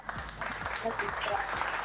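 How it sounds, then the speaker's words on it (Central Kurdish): A crowd on a television game show claps in a steady round of applause, dense and continuous, while a voice speaks over it. "کەواتە یەک چەپڵەی بەهێز"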